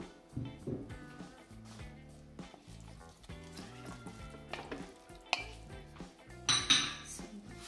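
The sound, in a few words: stirring capsicum frying in a pan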